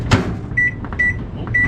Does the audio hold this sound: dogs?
no